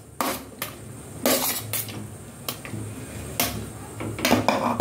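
Chopped vegetables, including capsicum, potato, tomato and gourd, are tipped into a metal pressure cooker for dalma, making several loud clattering knocks and scrapes of pieces and utensil against the pot, spaced irregularly.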